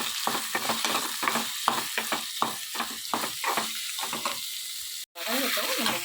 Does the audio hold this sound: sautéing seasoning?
yes